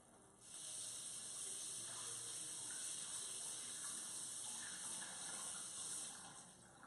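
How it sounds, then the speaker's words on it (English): Hands being washed under a running kitchen tap: a steady, close hiss of flowing water that starts abruptly and runs on evenly, no voices. "let me wash my hands off real quick"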